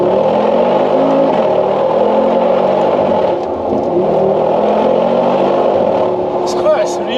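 A Mercedes G63 AMG SUV engine pulls hard under acceleration, a steady loud growl from inside the cabin with a voice talking over it.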